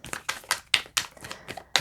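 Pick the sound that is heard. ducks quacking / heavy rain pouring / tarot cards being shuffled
tarot cards being shuffled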